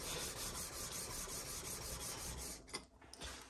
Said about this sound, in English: it's requiring a bit more force, a bit more oomph, to move it across that sharpening surface